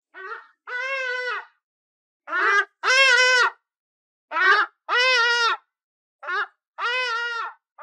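An ibis gives a series of loud, nasal honking calls, about seven separate harsh cries of varying length, spaced by short silences and heard alone without any voices.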